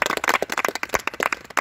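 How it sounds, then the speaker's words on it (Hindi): An audience at an Indian Army physical training session claps in quick uneven bursts, a close and moderately loud round of applause from a small group. "इसके लिए जोरदार ताली।"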